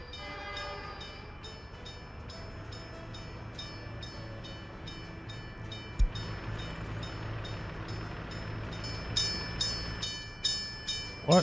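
A passenger train in the video game Workers & Resources: Soviet Republic rumbles along steadily, then a sharp clank comes midway, followed by a run of rhythmic clicks and knocks near the end, with no talking.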